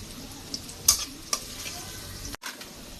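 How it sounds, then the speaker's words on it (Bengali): Whole cumin seeds drop into a lightly fried spice paste, giving a steady close sizzle with a few sharp pops and clicks, then a brief cut to near silence before the frying resumes. "পেস্টে হালকা ভাজা পর্যায়ে আস্ত জিরা দিয়ে দিলাম।"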